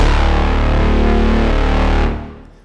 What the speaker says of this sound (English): Quite high reverb and distortion fairly high as well.